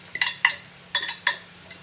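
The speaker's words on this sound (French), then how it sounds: "Je vais maintenant ajouter donc," Cauliflower florets tumble into a pan of partly cooked meat in a few quick clattering bursts, each a bright clink and rattle against the cookware, separated by short quiet gaps.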